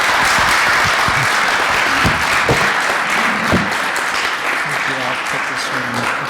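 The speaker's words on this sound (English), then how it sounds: "Let's give Dr. Michot another round of applause." An audience applauds steadily for about six seconds after a lecture by a visiting scholar, the dense clapping fairly loud and continuous, with a few voices mixed in underneath.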